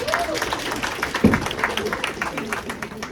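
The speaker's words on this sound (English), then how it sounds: "Clap it up for Jackson." A school audience claps for a student presenter at a Fort Hayes presentation, a scattered, moderately loud patter with a sharp thump near the middle and voices talking over it.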